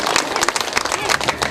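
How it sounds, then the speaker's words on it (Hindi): Audience clapping at a Guru Purnima festival gathering in Bariyarpur, Sitamarhi, a dense, steady patter of many hands filling the short stretch, with some voices mixed in. "जोर से ताली बजाइए"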